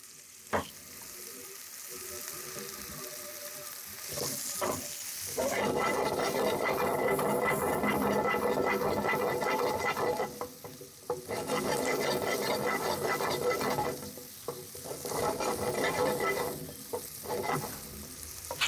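Brown mushrooms fry and get stirred in a pan over a medium-low flame, with a steady loud sizzle broken by scraping stirs and short clatters of the utensil against the pan.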